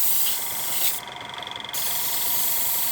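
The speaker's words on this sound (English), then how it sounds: "I'm just going to give this the very lightest of spray just to take the edge off the silver" A brief, light burst of spray paint hisses for under a second across the roof of a model train carriage, a soft airy spray that stands alone in a quiet room.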